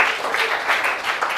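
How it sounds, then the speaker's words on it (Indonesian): A classroom of students applauds together at the end of a lesson activity, steady clapping that sounds dense and fairly close, continuing without pause. "Oke, tepuk tangan dulu untuk semuanya."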